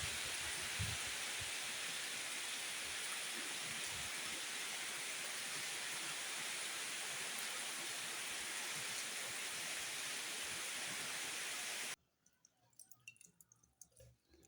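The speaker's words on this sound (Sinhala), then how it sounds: "ඉතින් ටික වෙලාවකින් පටන් ගත්ත උන් වහින්න" Steady, dense rain hisses continuously with occasional drips, then stops abruptly near the end, leaving faint scattered sounds.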